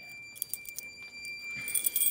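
Keys jangle in light, scattered metallic clinks beside a fire alarm control panel during a system test, with a steady high electronic whine from the panel running underneath.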